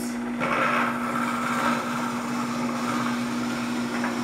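A steady, moderate Champion Professional 5000 dual-auger masticating juicer motor hum with a constant low tone runs continuously throughout, close by, with a grinding whir over it as carrots are juiced.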